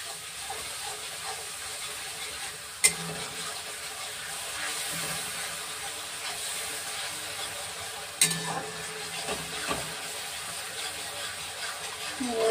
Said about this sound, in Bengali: জল দিয়ে এবার কষাবো